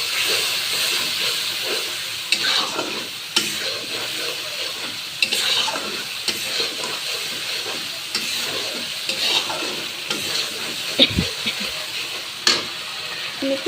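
Spices with turmeric and a splash of water sauté in a pan, hissing and steaming steadily, broken by repeated scraping stir strokes and a few sharper knocks.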